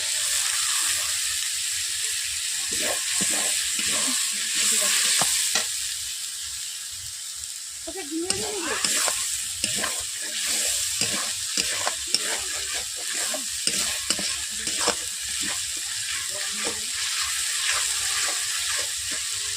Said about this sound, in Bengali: আমি আদা টমেটো দিয়ে আমি একসঙ্গে নেড়ে নিচ্ছি